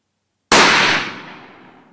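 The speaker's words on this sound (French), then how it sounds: "on tire la balle exacte, donc qui est une balle Gualandi." A single sharp, loud blast from an ELOS Traqueur 12-gauge shotgun firing a Gualandi slug, with a sudden onset after silence and a decaying tail, no talk.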